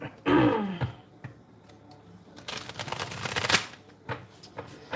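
Tarot cards being shuffled close by, a quick riffling burst at the start followed by softer scattered card sounds and a longer shuffling stretch, with a brief throat clear or breath in between.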